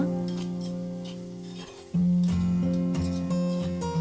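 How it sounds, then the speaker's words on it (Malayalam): A spoon stirs pea thoran in a pot, with soft scraping and a few light metallic clinks against the rim over a steady humming background. "നന്നായിട്ട് ഇളക്കി കൊടുക്കുക."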